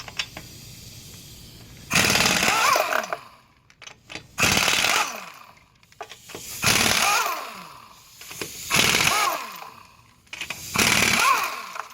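Impact wrench spinning off the five wheel bolts of a 1998–2012 Honda Accord: five separate loud bursts of buzzing, rattling power-tool noise, each a second or so long with short quiet gaps between, close up and with no talk.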